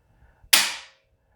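A Benelli M4 Tactical 12-gauge semi-auto shotgun's trigger breaks with a single sharp, loud click, crisp and isolated in a quiet room, decaying quickly to silence.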